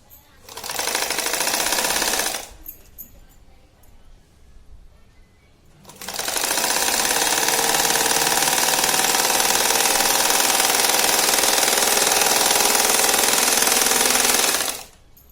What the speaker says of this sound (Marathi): आधी आपण चारी बाजूने शिवून याला शिलाई करून घेऊ